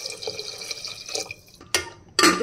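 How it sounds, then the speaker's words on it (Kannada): Two glasses of water poured onto raw rice in a cooking pot for bisi bele bath, with a steady trickle and splash followed by a couple of sharper pouring bursts near the end. "ಇದಕ್ಕೆ 2 ಗ್ಲಾಸ್ ನೀರು ಹಾಕೋತಾ ಇದ್ದೀನಿ"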